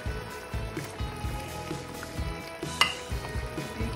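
Fried chicken pieces go into a simmering mushroom and chicken stock sauce for chicken scallopini, giving a close bubbling sizzle with soft rhythmic stirring and one sharp clink near the end.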